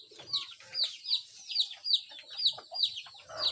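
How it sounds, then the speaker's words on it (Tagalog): Chickens cluck and chatter in a steady, repeating rhythm, fairly close, with no talking over them. "Yan kayong manok diri."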